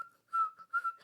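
A person whistles a steady tone repeatedly as a compulsive tic, with two clear sustained whistle phrases separated by short pauses, close and fairly loud with no talking.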